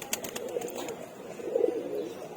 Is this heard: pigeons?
yes